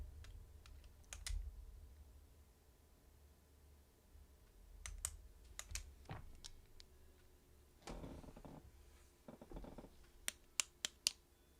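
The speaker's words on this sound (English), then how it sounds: "you can hear my pen clicking" A pen being clicked repeatedly at a desk, sharp close clicks coming in scattered bursts with brief pauses, some quick double and triple clicks, over a quiet room hum.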